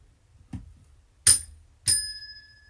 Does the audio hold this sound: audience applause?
no